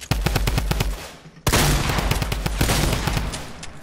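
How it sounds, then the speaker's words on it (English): Rapid automatic gunfire in Fortnite, close and loud: a quick string of shots fades around the one-second mark, then after a short gap a denser, louder volley bursts in and keeps rattling to the end. "Lucas is shooting walls just to make sure he kills her"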